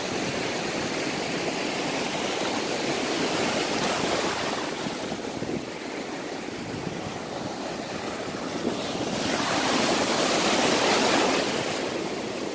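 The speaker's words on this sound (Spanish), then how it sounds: "las olas no están muy altas" Ocean waves at Mero Beach wash onto the shore with modest surf, a continuous close roar of breaking water and foam that swells louder in a couple of surges, heard alone without talk.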